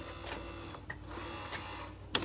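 A Canon MX490/TR4500 inkjet printer with a modified ink tank setup powers on, giving quiet mechanical whirs and a few soft clicks, with a sharper click near the end and no talking.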